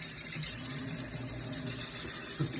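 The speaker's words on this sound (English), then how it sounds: "Just gonna rinse this fork off." Running tap water splashes steadily into a sink while a fork is rinsed, a close, continuous hiss with small clinks and shifts in the flow.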